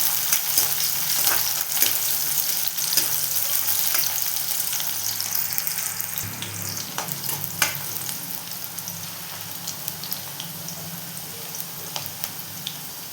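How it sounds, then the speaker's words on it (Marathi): Moong dal and fenugreek leaves frying with garlic and chilli in a pan, a steady close sizzle broken by scraping stir strokes, with no talk. "तर व्यवस्थित फ्राय करून घेऊया"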